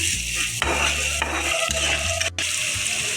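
A spoon scrapes and stirs potatoes and carrots frying in oil in a pan for flattened-rice pulao, loud close sizzling under repeated rhythmic scraping strokes, with no talking.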